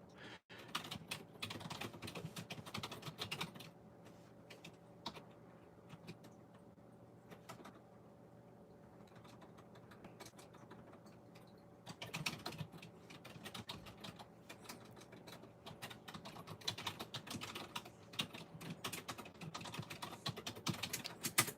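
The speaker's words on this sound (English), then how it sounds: "typing." A computer keyboard clatters quietly in steady bursts of typing, with brief pauses between runs of keystrokes.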